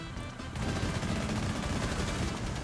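Gunfire in a Rainbow Six Siege or CS:GO match, a dense, sustained burst of rapid shots starting after a brief quieter moment and continuing steadily at high level throughout.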